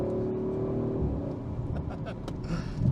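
An Audi RS5 Sportback pulling away, its engine a low steady drone heard from inside the car that rises slightly as it accelerates, with faint voices over it.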